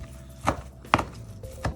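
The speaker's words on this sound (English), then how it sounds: "just chop off a little bit of it" A knife chops a bunch of parsley on a cutting board, three distinct thuds spaced unevenly, close and clear with no talk.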